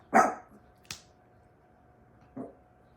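A dog with ear problems barks sharply once up close, then gives a quick second yap and, after a pause, a softer third bark, each burst brief and separated by near silence.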